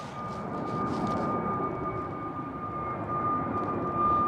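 A Boeing 747-400 climbs out of London Heathrow overhead, its engines producing a steady, broad roar with a thin sustained whine, fairly loud and swelling slightly toward the end, alone without voices.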